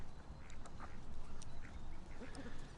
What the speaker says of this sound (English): Gonna go hang out with the one-legged ducks now.